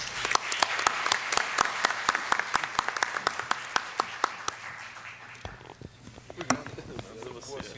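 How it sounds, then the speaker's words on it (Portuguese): Applause for the panel speakers at a Brazilian monitoring and evaluation seminar: sharp, distinct claps from a modest audience, steady at first and then thinning out into a few scattered claps near the end. "eu gostaria de agradecer a todos os palestrantes com uma salva de palmas"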